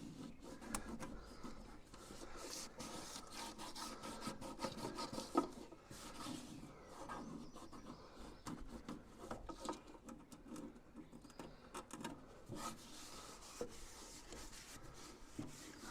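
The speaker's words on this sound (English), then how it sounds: "I'm taking disinfectant wipes and wiping it out" A Yoder YS640 pellet grill being wiped out inside with disinfectant wipes: soft, irregular rubbing and scuffing with small knocks, close and quiet, no talking.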